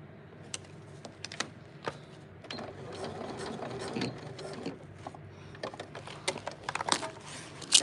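A sewing machine stitches a mini duffle bag, a steady mechanical whir under a busy train of fast needle taps and clicks that grows louder toward the end, heard up close.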